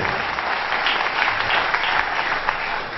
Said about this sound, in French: S'il vous plaît, applaudissez.